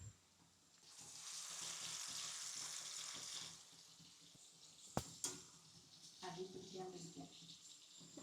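Fish pieces frying in hot oil for pickle give a steady, fairly faint hiss and sizzle for a few seconds, followed by clatter and stirring noises as someone talks nearby.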